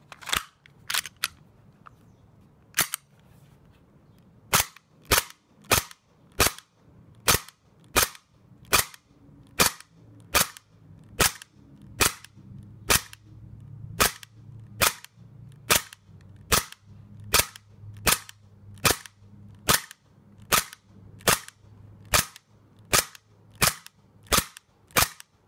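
Walther P99 and HK USP gas blowback pistols fire a long series of sharp, loud, evenly spaced shots, with a few scattered single pops at first and then a steady rhythmic string of dozens of cracks, each followed by a mechanical clack.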